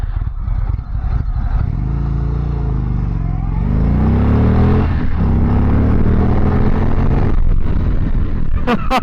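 A 2021 Indian Chieftain Dark Horse motorcycle with a 116 Thunderstroke engine accelerates hard in sport mode, its loud, close exhaust note climbing in pitch, dropping briefly at a shift, then pulling strongly again.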